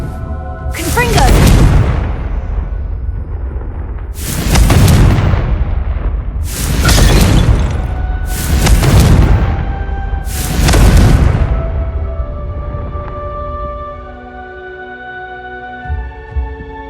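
Five loud, booming blasts from the Confringo blasting spell in Hogwarts Legacy, evenly spaced about two seconds apart, each bursting sharply and ringing out briefly before a quieter tail.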